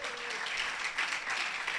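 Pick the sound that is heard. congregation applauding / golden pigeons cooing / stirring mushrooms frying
congregation applauding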